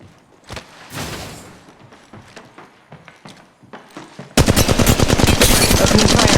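Automatic weapon fire in the mobile battle royale game Apex Legends Mobile, beginning as a sudden, loud, sustained burst of rapid shots that drowns out the quieter game effects and footsteps before it.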